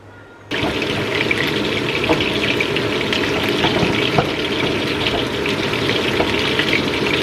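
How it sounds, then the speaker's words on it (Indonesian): Tuna frying in a pan, a loud continuous close sizzle that begins abruptly after a brief quiet moment and holds steady with crackling spatter throughout. "Ikan tuna kita goreng aja, terus nanti kita makan pakai nasi panas."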